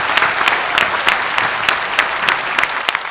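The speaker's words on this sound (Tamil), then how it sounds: "ஒரு கைத்தட்டல் கொடுத்து நம்ம அவருக்கு." Audience applause for Sathya Nagarajan at a Tamil speech event, dense steady clapping from a crowd throughout, loud and close with no voices on top.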